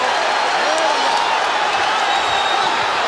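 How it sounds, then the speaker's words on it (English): A packed boxing arena crowd of about 20,000 on its feet during the Shane Mosley vs Oscar De La Hoya fight, a loud continuous roar of cheering with a voice faintly beneath it. "Crowd on its feet."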